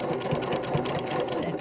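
A sewing machine stitches steadily along a drawstring gift bag, its fast, even mechanical whirr running close and unbroken throughout.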